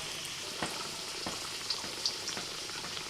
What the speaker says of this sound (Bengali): আলুগুলোকে একটু ভালো করে ভেজে নিয়ে তুলে নিচ্ছি